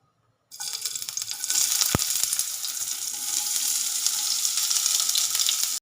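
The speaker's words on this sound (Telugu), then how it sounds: "ఇట్లాంటి కళాయిలో ఫస్ట్ 2 టేబుల్ స్పూన్స్ ఆయిల్ వేయాలి. దాని తర్వాత కొంచెం మీడియం ఫ్లేమ్లో పెట్టి ఇందులో ఆనియన్స్ వేయాలి." Onions sizzle in hot oil in a kadai over a medium flame, a steady close frying hiss that swells after a sharp start, with a brief clack partway through.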